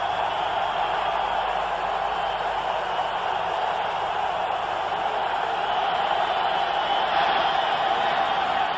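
A large stadium crowd at Pro Player Stadium roars steadily during a 2000 AFC Wild Card playoff between the Colts and Miami Dolphins, a broad, continuous distant wash of cheering that swells slightly toward the end.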